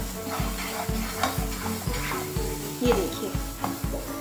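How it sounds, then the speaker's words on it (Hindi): A spoon scrapes steadily through a thick, sticky tamarind candy mixture in a pan, the rhythmic stirring strokes repeating about twice a second over a soft sizzle, with someone speaking briefly. "इसको अच्छे से मिक्स कर लेंगे।"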